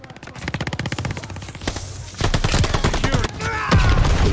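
Rapid automatic gunfire in the Call of Duty Vanguard Shipment map, loud close bursts of fast rhythmic shots, then a denser and heavier exchange of fire with overlapping shots.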